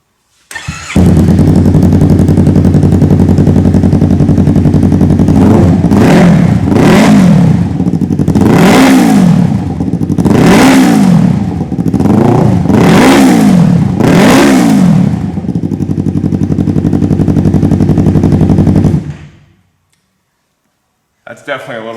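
A 2015-2017 Yamaha R3 with an M4 Street Slayer carbon slip-on exhaust, dB killer removed, starts and idles loudly, then revs in five sharp blips before cutting off.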